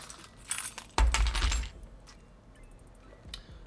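Car keys jangle and clink with a couple of bright metallic bursts as they are pulled from a Coach Serena satchel, then a quieter rustle of the bag follows.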